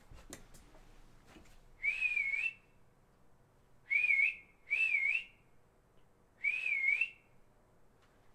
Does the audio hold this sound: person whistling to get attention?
yes